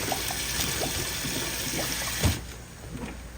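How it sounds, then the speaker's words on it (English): Water from a pot of boiled potatoes poured off through a strainer into a kitchen sink, a steady splashing rush that runs for about two seconds, then ends, leaving a quieter trickle. "We're going to strain our potatoes."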